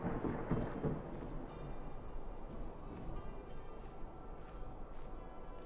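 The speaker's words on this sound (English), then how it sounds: "Thunder and lightning is not doing anything to reassure me." Thunder rumbles through a dark, rainy night in the video game Skyrim, a low sustained roll under a steady hiss of rain, heaviest at the start and then settling into a continuous murmur.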